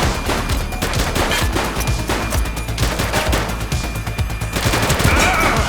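Gunfire from a suspect in The Precinct, rapid sustained bursts of shots crackling steadily for several seconds at close range, loud and unbroken, with faint sounds of the scene between volleys.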